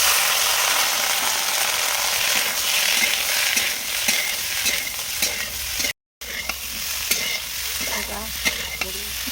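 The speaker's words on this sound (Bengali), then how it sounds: "এটা একটু ভাজা হোক।" Peas, potatoes and cauliflower fry with a steady sizzle in a pan for a home-style curry, while a spoon scrapes and stirs in repeated clicks, with one short silent gap.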